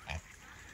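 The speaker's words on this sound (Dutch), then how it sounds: "Kippen, zijn varkens lopen hier rond." A single short grunt from a pig on a small farm, brief and fairly quiet, followed by faint background.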